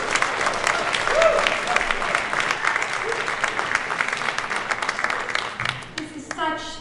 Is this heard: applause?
yes